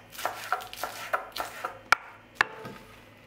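Knife chopping lettuce and cucumber on a cutting board, a quick series of crisp, close taps and cuts in an uneven rhythm, with a couple of sharper louder strikes near the end.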